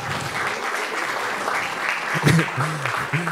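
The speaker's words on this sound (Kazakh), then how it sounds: "шапалақтарыңыз қаттырақ" An audience at a stand-up comedy show claps steadily in a dense, continuous wash of applause, with a voice speaking over it toward the end.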